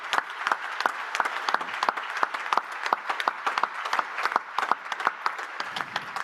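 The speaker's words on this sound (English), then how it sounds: "You need to have an applause for yourselves" An audience at a World Food Forum closing ceremony applauds steadily, a dense, continuous patter of many hands clapping that holds for several seconds before tapering slightly.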